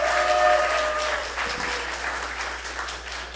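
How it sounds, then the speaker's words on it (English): Congregation applause after a sermon at a Sunday church service, steady clapping from a moderate-sized group that swells early and then holds evenly, with a few tones faintly underneath at the start. "Please give her a round of applause"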